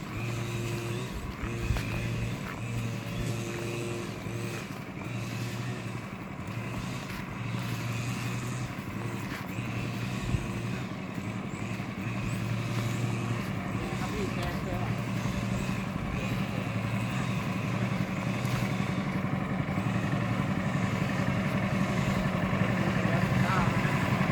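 A truck engine runs steadily at an outdoor shrimp pond as another vehicle pulls in, a continuous low rumble that grows slightly louder toward the end while people talk nearby.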